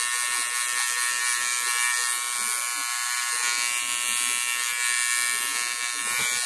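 Tattoo machine fitted with a Monster Point needle and tube running at about 8.6 volts and 125 hertz, a steady high-pitched electric buzz with faint irregular rattling underneath, close and continuous.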